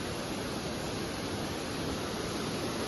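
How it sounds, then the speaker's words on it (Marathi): A waterfall on a trek, a dense, constant roar of rushing water filling the whole clip at an even level, with no voices. "कसला आल्या बघा तिकडनं हा धबधबा"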